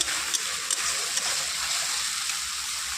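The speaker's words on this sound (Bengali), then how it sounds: "মশলা ভাজা হচ্ছে" Spices frying in a pan for a meat curry, a steady bright hiss with faint scattered crackles, close and continuous with no talk.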